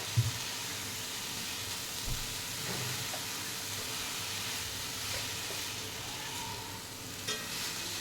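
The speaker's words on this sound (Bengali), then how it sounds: "নিয়ে আবারও আমি সবগুলোকে ভালো করে নাড়িয়ে নেব" Beetroot fry with grated coconut sizzles in a pan as it is stirred, giving a steady soft frying hiss with faint scrapes, close and quiet, no voices.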